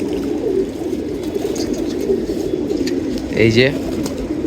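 Domestic pigeons in a loft coo in low, throaty murmurs that overlap steadily, close by. Someone speaks briefly over them.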